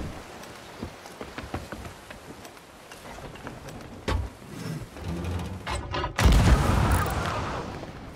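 Ship cannons fire in the Sea of Thieves video game, a series of sharp booms scattered through the clip, with a louder, sustained blast and rumble near the end over churning sea-battle noise.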